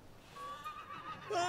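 A horse whinnies in Rise of the Ronin, a short tonal neigh that rises and wavers, fairly faint over quiet background, with a brighter burst near the end.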